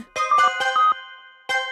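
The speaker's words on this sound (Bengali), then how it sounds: "খান্না বাবু, আন্নাকে ফোন করুন।" On an outgoing phone call, a ringing tone repeats as clipped electronic bursts, two quick pairs followed by a pause and another burst, loud and close with no talk.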